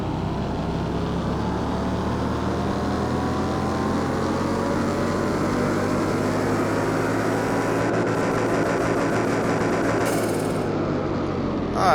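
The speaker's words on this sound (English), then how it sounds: "We're going to go ahead and do a dyno test and make sure the car is performing like it should." A four-cylinder car engine runs on a dyno with a steady, loud, continuous drone that climbs slowly in pitch as it pulls through the rev range, heard alone without talk.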